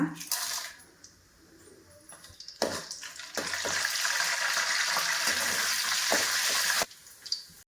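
Mustard seeds, curry leaves and chana dal dropped into hot oil for a bhindi palya: a brief sizzle, then a loud steady crackling fry that stops abruptly, with a voice talking faintly.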